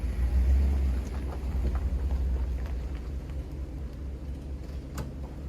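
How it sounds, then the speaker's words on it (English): A pickup truck pulls away from a travel trailer at a campground, its engine a steady low rumble that fades gradually as it moves off. "So let's move the truck up and get it out of the way"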